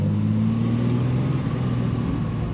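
A car drives along a road, heard from inside as a steady low engine drone and road rumble that stays constant and fairly loud throughout, with no talking.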